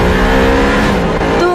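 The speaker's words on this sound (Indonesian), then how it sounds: "di sini ada mobil damkar yang melaju sangat cepat teman-teman" A fire truck drives very fast, its loud engine roaring steadily from start to finish with a slight change in tone near the end, close and with no voices.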